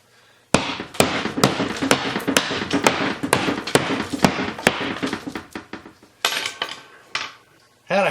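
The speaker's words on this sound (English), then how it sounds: "Had a hammer slip." A fast run of sharp, loud metallic knocks and clatters from a hammer slipping during drywall patching, a dense irregular flurry of impacts with a few scattered strikes toward the end.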